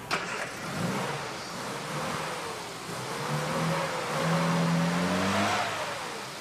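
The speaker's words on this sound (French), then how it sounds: "Mais le moteur est parfait." A car engine at a garage cranks, catches and idles, then revs up in rising and falling surges, loud and close with no talk over it.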